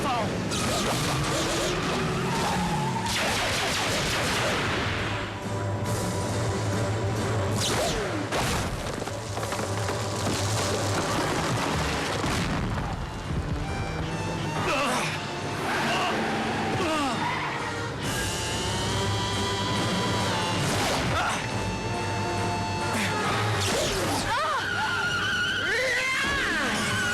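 Vehicle speeding at full throttle during a chase in a sci-fi animated series, with whooshes, impacts and a crash amid dense action music and effects, voices calling out over the din.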